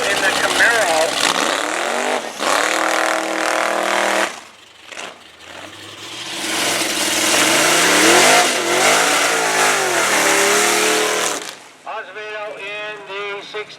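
A 1967 Camaro at the Eagle Field drag races revs and accelerates loudly, its engine rising and falling in pitch over several bursts, with a pause midway, while a voice talks over the noise.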